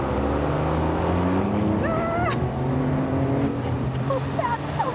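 Car driving fast around a racetrack, heard from inside the cabin: a loud steady engine roar with rising revs and brief whining shifts, tires and wind noise throughout, no speech.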